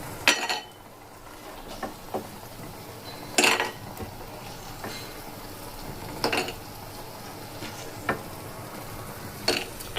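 A metal utensil lifts fried bori (lentil dumplings) out of a pan, giving several sharp scraping clinks and taps at irregular intervals over a low background hiss, close and moderately loud.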